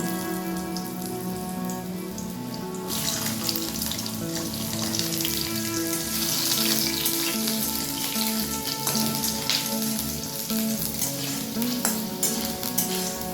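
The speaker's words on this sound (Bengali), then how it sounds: "আলুটাকে একটু ভালো করে নেড়ে চেড়ে লাল লাল করে ভেজে নেব" Thin potato strips frying in mustard oil in a wok make a loud, dense crackling sizzle that swells after a few seconds and holds steady, with a faint tonal hum underneath and no talking.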